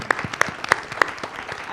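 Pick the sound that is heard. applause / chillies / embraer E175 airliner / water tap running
applause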